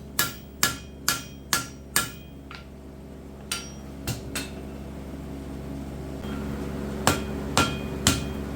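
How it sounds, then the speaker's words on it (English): Sharp metallic hammer blows ring out in uneven bursts as a hot rivet end is flared over while forging a rushlight: five quick strikes, then a few softer taps, then more strikes, over a steady background hum. "I just hammer over everything and evens everything out, makes everything line up."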